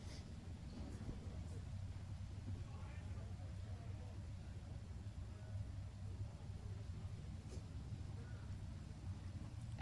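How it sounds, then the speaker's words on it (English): Race cars circulate around Penticton Speedway, a steady low engine drone rolling on throughout at moderate distance, with a voice talking over it. "As the cars circulate around here at Penticton Speedway."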